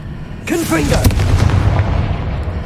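A Confringo fire spell goes off in Hogwarts Legacy: a sudden loud blast with a whooshing, crackling burst that settles into a sustained rumbling roar.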